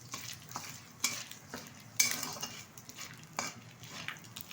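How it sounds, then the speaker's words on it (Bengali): Whole cumin seeds and three dried red chillies fry in hot oil for a tempering, a steady close sizzle broken by scraping stir strokes and a few metallic clinks, with no talk. "এখন এই তেলে দিয়ে দেবো কিছুটা গোটা জিরে ফোড়ন আর তিনটে শুকনো লঙ্কা ফোড়নটা খুব ভালোভাবে ভেজে নেব"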